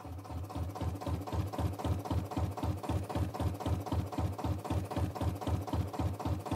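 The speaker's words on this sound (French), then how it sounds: "j'ai chargé un son de moteur qui démarre et qui tourne au ralenti" Looped sound effect of an engine starting and idling, a steady low rhythmic chug repeating evenly at a fast pulse, moderately loud and alone with no talk.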